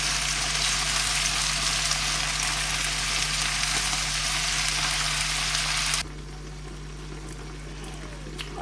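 Potatoes and onions fry in a pan with a steady, dense sizzle that drops to a softer hiss toward the end, with no talking.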